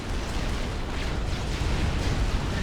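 Missiles from mobile launchers exploding against a defensive shield in Supreme Commander: Forged Alliance: a continuous, loud barrage of deep booms and crackling blasts rolling together without pause.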